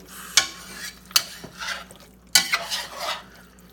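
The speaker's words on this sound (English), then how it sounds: "I'm not going to do too much of a stir." Vegetables for baked ziti are being stirred in a pan. A few sharp utensil knocks against the pan are followed by soft scraping and light sizzling, close and brief, with no talking.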